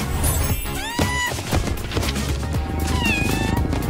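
Newborn kittens meow in a busy cluster of high, rising and falling cries, several overlapping calls repeating close by and fairly loud, with no talking.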